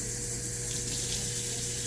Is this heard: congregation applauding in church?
no